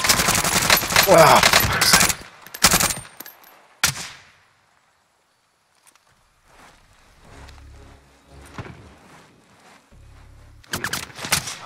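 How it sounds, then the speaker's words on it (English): Close bursts of rapid automatic gunfire hit a player in a team shooter video game, followed by a near-silent pause and a few more shots at the end. A voice briefly exclaims. "Being shot from the right."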